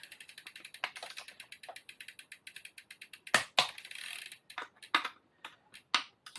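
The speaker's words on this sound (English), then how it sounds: "then I'll put the torque wrench on it just to check it's good and tight" A torque wrench ratchets in quick, even clicks while bolts are tightened on a Holdsworth Super Pro bicycle, then a few louder, separate clicks as the set torque is reached, close and quiet.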